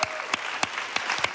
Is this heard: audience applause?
yes